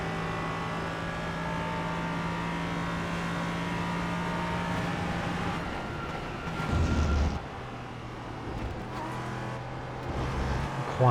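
A race car in the iRacing sim racing game at Atlanta runs flat out down a straight, its engine a steady sustained drone with a brief louder surge near the end, heard without talk.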